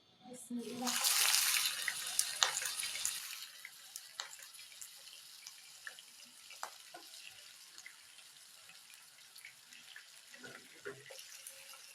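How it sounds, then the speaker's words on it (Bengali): Chicken pieces dropped one by one into hot soybean oil for a spicy tomato chicken curry burst into a loud, bright sizzle that gradually settles into a quieter, steady crackle with scattered pops. "তেলটা গরম হয়ে আসলে এখন আমি একে একে মাংসগুলো ছেড়ে দিচ্ছি।"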